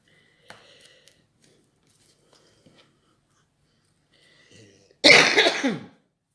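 A woman gives a single loud, harsh cough burst near the end after quiet rustling of paper crafting, close to the microphone.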